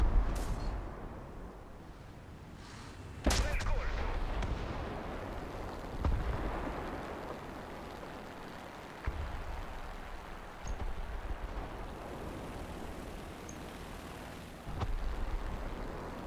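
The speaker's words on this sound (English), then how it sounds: "I thought it was pretty high up, but still the bombs managed to actually hurt me." Bomb explosions in the War Thunder video game, heard as several booming blasts over a constant rumbling battle background, with a sharp loud hit near the start and further thumps spread through the scene.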